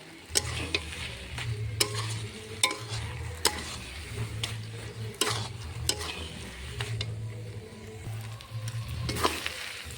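Bathua greens cooking with prawns are turned over in a pan. A continuous sizzle sits under regular sharp scraping clicks of the spatula, with a low rhythmic rumble pulsing underneath for ten seconds and no speech.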